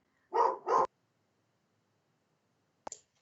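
A dog barks twice in quick succession during a meeting, followed by silence and a brief click, heard close and clear with no talk over it.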